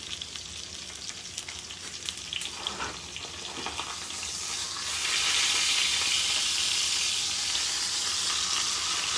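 Steaks sear in a hot pan, giving a steady frying sizzle that swells louder and hissier partway through, with no talking.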